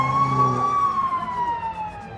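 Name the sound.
police car siren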